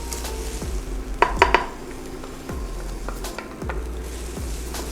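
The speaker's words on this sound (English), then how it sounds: "make sure that you you saute or you run around your garlic and onion to have an even cooking" Garlic and onion sautéing in a pan, a soft steady sizzle broken by repeated scraping strokes of a utensil against the pan and a few brief metallic clinks.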